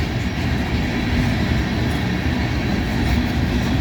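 A freight train rolls past on a line in Ohio, its steady, loud rumble and rattle of wagons filling the whole stretch without pause and with no voices.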